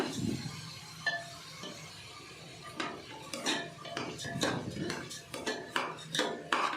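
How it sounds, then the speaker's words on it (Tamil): Soaked rice sautéed in ghee inside a pressure cooker for mushroom biryani, heard as a string of close metallic scrapes and clinks of a spoon stirring against the pot, with a faint background hum. "இப்போ நம்ம ஊற வச்சுருந்த அரிசியை இது கூட சேர்த்து ஒரு 2லேருந்து 3 நிமிஷம் நெய்யில் நல்லா வதக்கி"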